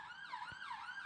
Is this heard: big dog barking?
no